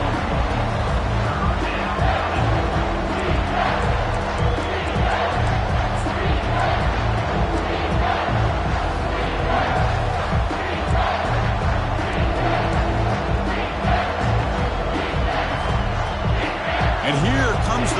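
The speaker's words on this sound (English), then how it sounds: "This crowd is trying to inspire this defense to make a big red zone stop." A stadium crowd in the College Football 25 video game keeps up a steady loud roar, building noise for a red zone defensive stand on third down. Cheering and shouting fill the whole stretch without a break, alongside other game sounds.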